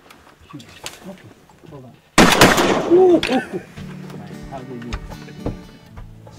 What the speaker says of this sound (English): I shot second and it was dead when I shot